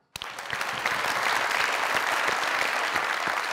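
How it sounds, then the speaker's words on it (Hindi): A studio audience at a comedy talk show bursts into applause after a brief quiet start, steady dense clapping that stays loud and even with no talk over it. "तालियां।"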